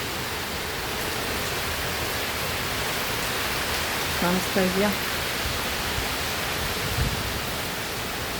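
Heavy rain pours down in a dense, steady hiss that fills the whole scene, loud and unbroken, while a person briefly speaks under it.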